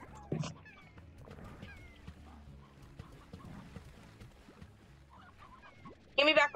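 Chickens cluck in the video game Slime Rancher, with short, faint squawks over quiet background game sounds and a louder, sharper burst of clucking near the end.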